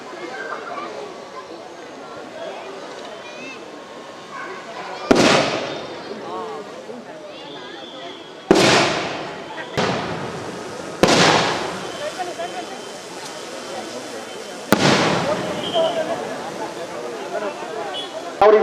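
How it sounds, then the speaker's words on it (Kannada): Simulated drone and shell attack explosions during a civil defence mock drill in Chikkaballapur: five sharp, loud bangs at irregular intervals, each with a short decaying tail, over steady crowd noise and ongoing talk. "ಆತಂಕವಾದಿಗಳು ಡ್ರೋನ್ ಮತ್ತು ಶೆಲ್ ಮುಖಾಂತರ ದಾಳಿ ಮಾಡ್ತಾ ಇದ್ದಾರೆ."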